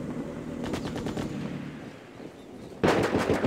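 Bursts of gunfire from the real-time strategy game Act of Aggression, two distinct volleys of rapid shots, the second louder and sharper, over a steady low battle rumble with no talk.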